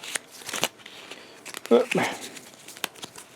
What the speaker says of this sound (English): Shuffling away. A lot of shuffling in this, but it's okay. It's not a big deck.